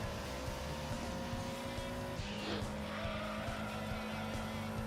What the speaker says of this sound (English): Unfortunately, all cars still sound like lawnmowers